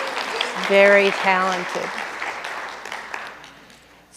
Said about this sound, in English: let's just give Miss Autumn another big round of applause